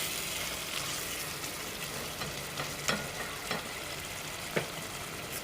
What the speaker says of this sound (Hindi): अब इसको भूनेंगे टमाटर को ताकि ये टमाटर गल जाए